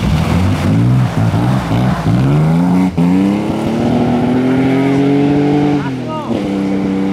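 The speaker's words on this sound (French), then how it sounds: "C'est le dérapage." A historic rally car drifts at the Rallye Monte Carlo Historique, its engine roaring loud and close in a sustained, high-revving howl that shifts pitch through the slide, with voices in the background.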